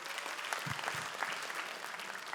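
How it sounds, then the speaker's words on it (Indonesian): An audience applauds at the grand final of a stand-up comedy competition, producing a steady, moderately distant wash of clapping that holds evenly for a couple of seconds. "Ya tepuk tangan dah buat Jiung sama Wahyu."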